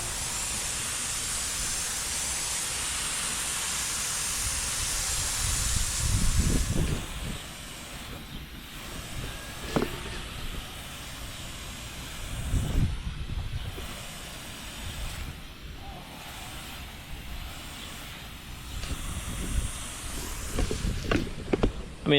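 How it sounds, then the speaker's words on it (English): A fine mist of water hisses onto windshield glass treated with a ceramic coating: a continuous close spray at first, then several separate louder puffs of spraying with quieter gaps between them, and no talking. "Now we're gonna try something different. Put some just mist to it."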